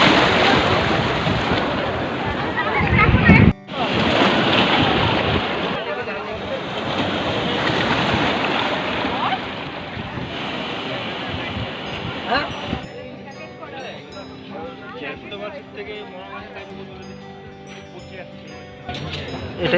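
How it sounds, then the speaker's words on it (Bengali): At night, sea waves break on the beach at Digha with a broad, rushing surf roar and wind buffeting. The roar eases toward the end, and voices can be heard faintly in the background. "রাত্রিবেলার সমুদ্র।"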